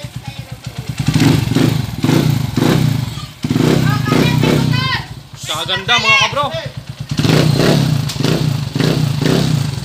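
A 175cc motorcycle engine idles and revs up in pulsing bursts, loud and close, while someone talks over it.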